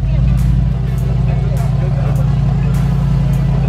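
The engine of a 2019 Mercedes-AMG G63 runs loud and close at a steady, even idle with a deep, unbroken rumble.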